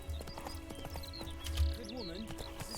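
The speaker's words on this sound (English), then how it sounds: "riding a horse full speed through a forest on uneven terrain is definitely something that everybody does" Rhythmic hoof clip-clops of a horse galloping over uneven forest ground in The Witcher III, running fast and steady while people talk over it, with a brief snort partway through.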